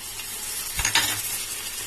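Tomatoes hit a hot Chettinad mutton biryani masala with a sudden loud hissing burst over a steady background sizzle, close up, then settle back to an even fry.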